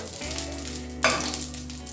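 Ghee melts and sizzles in a pan, a soft, close frying crackle over a low hum, with a brief sharper burst of sizzle about halfway through.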